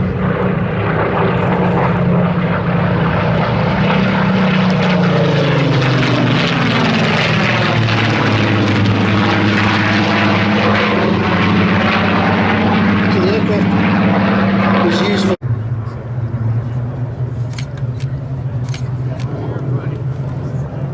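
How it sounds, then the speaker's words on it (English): Spitfire warbirds, the first a low-back Spitfire with a bubble canopy, fly past at the Sywell airshow with a loud, sustained propeller-engine roar whose pitch sweeps downward as they pass, then cuts to fainter background noise. "You'll notice as they come past, the first aircraft is what's called a low-back Spitfire."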